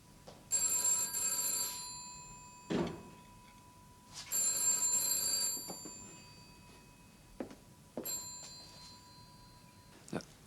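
An old-fashioned 1970s home telephone rings in repeated double bursts with pauses between, loud and clear indoors, punctuated by a few thuds and movements.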